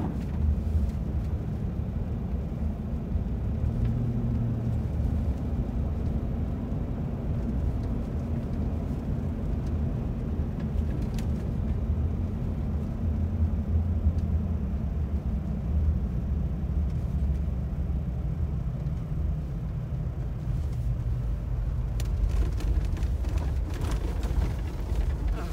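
A car on a G4 test drive runs over a gravel, unimproved road, giving a steady low rumble of engine and tyres with faint crunching texture that continues without a break and eases slightly toward the end.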